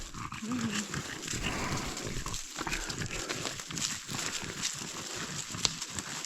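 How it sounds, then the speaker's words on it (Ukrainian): Dogs pant, snuffle and rustle close by in a forest, with bursts of movement and faint whines over an outdoor background. "Собаки вже поруч з нами."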